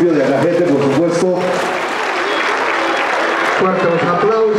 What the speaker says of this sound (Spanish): el aplauso fuerte, fuerte, fuerte para esta banda sinfónica juvenil del municipio de Alajete